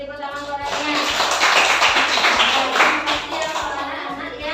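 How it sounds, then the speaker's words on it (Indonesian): Classroom clapping by a group of schoolchildren rewarding classmates who presented their work, a fairly loud patter of hands with a regular underlying beat, with some voices mixed in. "Bisa tepuk tangan orangnya."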